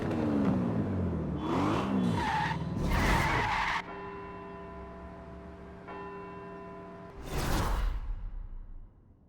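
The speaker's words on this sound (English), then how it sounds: "Hard on those carbon ceramic brakes now." A car brakes hard on carbon ceramic brakes, with tyres skidding and squealing loudly in several sharp bursts and a sustained tonal screech between them. Engine noise and whooshes come and go with the stops.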